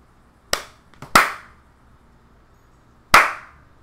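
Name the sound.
hand clap picked up as audio event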